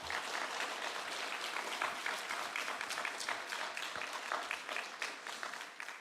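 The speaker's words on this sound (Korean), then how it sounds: "박수로 한번 축복하겠습니다" Church congregation applauding during a Sunday worship service, a steady, moderately distant roll of many hands clapping that continues for several seconds with no talk over it.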